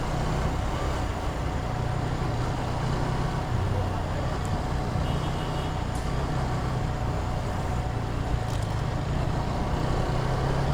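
A jammed street on a broken road carries a constant low rumble of idling and creeping cars and trucks, dense and unbroken throughout.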